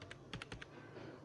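Computer keyboard typed on while searching for Control Panel on a Windows PC: a quick burst of about six crisp key clicks, close and fairly quiet, then a low background hum.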